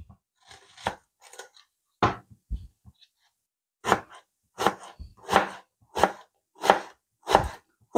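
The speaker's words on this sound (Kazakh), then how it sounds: "жарты пиязды осындай соломка қылып турап шығамыз" A knife chops an onion into thin strips on a board, starting with a few scattered cuts and then settling into a quick, even run of crisp close thuds, no talk.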